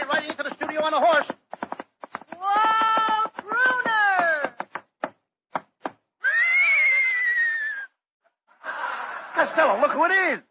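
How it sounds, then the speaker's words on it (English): A horse whinnies loudly several times in bursts, with long descending neighs separated by short pauses and some snorting. "Hey, Abbott, there's somebody riding into the studio on a horse."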